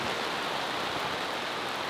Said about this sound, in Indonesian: sekarang hujan lagi